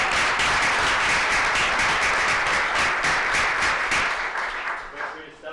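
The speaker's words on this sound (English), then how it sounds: "Ladies and gentlemen, one final round of applause for Council Rock High School South's best and" A room claps loudly for high school students honored at a school board meeting, a thick steady round of applause that thins and fades away near the end.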